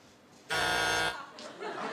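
A loud, harsh game show buzzer blares for about half a second, followed by murmuring voices and light laughter.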